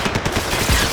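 Rapid gunfire from the video game Max Payne 3, a dense burst of shots filling the short moment with booming low-end thumps, loud and close, with no talk.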